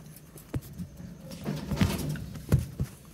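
A female pigeon coos softly nearby, a few low, throaty coos spaced unevenly, with faint rustling in the background.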